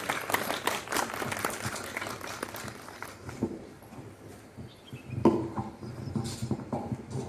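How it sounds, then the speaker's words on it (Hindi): An audience at a school Independence Day gathering gives a brief round of scattered clapping to welcome the principal, which is fairly faint and distant. Patters and shuffles follow as the applause thins out. "एक बार तालियों से स्वागत कीजिए मैम का।"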